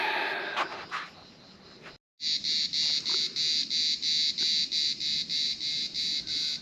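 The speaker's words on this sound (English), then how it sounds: "Maybe something else, but it sounds like a cicada." A loud, pulsing insect drone like cicadas, rhythmic buzzing throbs that cut in after a brief silence and continue steadily, with faint rustling beneath.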